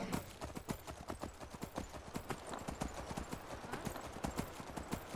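Horse hooves in Skyrim clip-clop in a quick, steady gallop, loud and close, with rapid repeated thuds running through the whole stretch and no talk over them.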